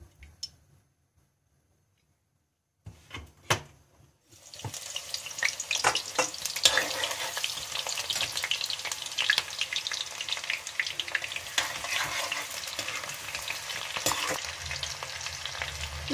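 Chopped onion with green chillies sizzling in hot oil in a kadhai, a steady bright crackle beginning after a few soft clicks and a brief silence, continuing loud and close with occasional stirring scrapes.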